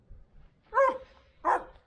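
A puppy gives two short, high yelping barks with a whiny, whimpering edge, close by in a quiet home garage.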